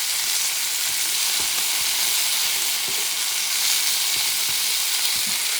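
Minced garlic sizzles in a pan over medium heat for a traditional lamb paella, a loud, dense, even hiss with a few soft clinks of stirring and no talking.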